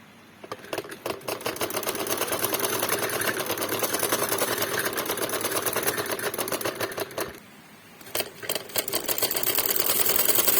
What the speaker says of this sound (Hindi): सबसे पहले ये आधा इंच कपड़ा फोल्ड करके इस तरह सिलाई लगानी है